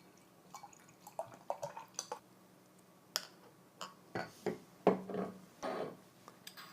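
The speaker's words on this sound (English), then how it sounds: "let's go ahead and get this one cracked open into a glass" A 12-ounce bottle of Funky Buddha More Moro IPA is opened and poured into a glass, giving close, uneven clinks, fizzing and splashy liquid bursts with no talking.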